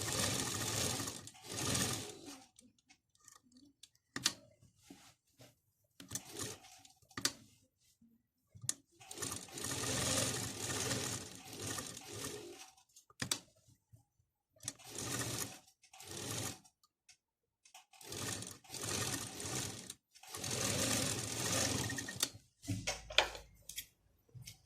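Sewing machine stitching a kurti with a zip, running in repeated bursts of steady whirring stitches separated by short pauses and handling noises, close and fairly loud.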